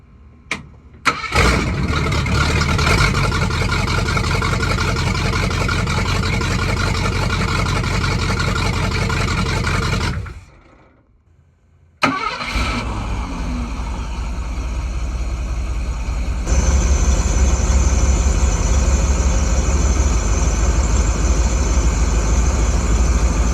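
A Ford 302 V8 in a 1966 Ford Econoline cranks and fires, then idles with a steady loud rumble, shuts off briefly, restarts with a sharp catch, and settles into a deeper, louder idle.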